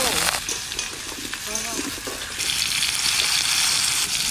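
Potatoes frying in a pan give off a loud, continuous sizzle at close range, with a few brief stirring clatters, and the frying keeps its strength from start to end.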